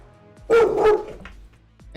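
A dog gives one loud close bark-growl burst lasting about half a second in an otherwise quiet indoor setting.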